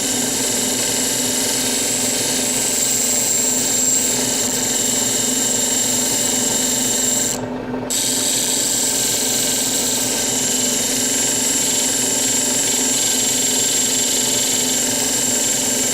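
A spinning 14,000 mesh polishing wheel runs against a large Chrysocolla bead in a steady, loud, continuous whir with a sustained high whine, broken only by one brief dip partway through.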